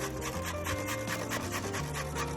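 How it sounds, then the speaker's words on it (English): Carrot rasped quickly against a box grater in a kitchen, a close, quiet run of rhythmic scraping strokes. "Carrot, I'm gonna use a box grater."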